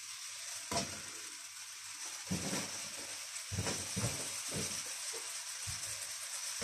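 Two onions with slices of ginger sizzle in rapeseed oil in a pan, a steady bright hiss broken by scattered clicks and knocks from stirring or moving the pieces.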